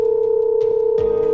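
A steady telephone dial tone hums continuously and loud on a phone line before a call to a woman named Nisa connects, with a brief click and a shift in the line noise near the end.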